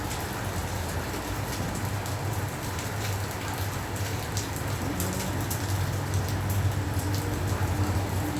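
Rain pours down without a break, a steady broadband hiss of drops on surfaces, with a low constant hum underneath throughout.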